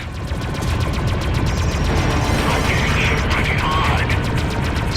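Space fighters in the Freelancer video game fire rapid, rattling bursts of weapon fire, a continuous loud mechanical clatter with a dense rumble beneath and faint voices mixed in.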